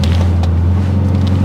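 Seen from the passenger seat, a BMW M3 V8 holds a loud, steady low hum with a strong bass tone, while wind noise and light rustling pass over it.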